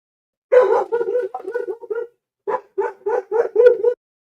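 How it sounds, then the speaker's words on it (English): A dog barks and yips in two close bursts of quick, whiny vocalizations, about seven rapid sounds, then a short pause and five or six more, loud against an otherwise silent room. "So that was the dog letting me know."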